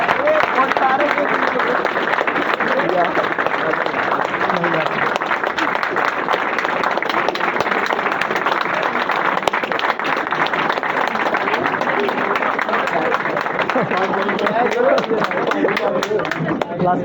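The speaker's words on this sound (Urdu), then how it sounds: "ہم سب کھڑے ہو کے بھرپور تالیوں کے اندر بوزی کا استقبال کریں" A standing audience gives a sustained, dense ovation of applause at a talk on becoming a successful person, steady and loud throughout with crowd murmur mixed in.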